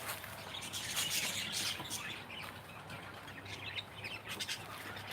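Pet budgies chirp and twitter in an outdoor aviary, a busy cluster of bright overlapping calls, fairly close and moderately loud, with no speech.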